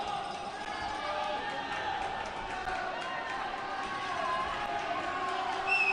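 Crowd and teammates cheer steadily at a varsity swim meet against Spalding, a continuous wash of voices with echoing pool-hall noise and scattered shouts throughout.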